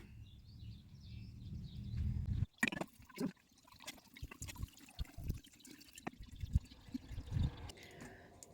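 Liquid pours into a container for a homemade liqueur, a soft steady stream at first followed by faint drips, splashes and clinks at close range.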